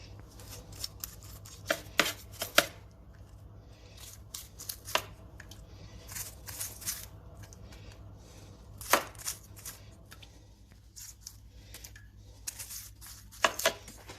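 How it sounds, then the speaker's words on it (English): A sharp knife cuts down through baked spanakopita, a Greek spinach pie, to the base, making faint, scattered crisp crackles and crunches of flaky pastry in quiet bursts over a low steady hum. "Take a sharp knife and cut through where you scored it to the base."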